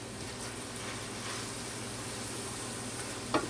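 Food sautéing in a hot pan over raised heat, a steady, even sizzle with a constant hiss, fairly quiet and close, and a brief clink near the end.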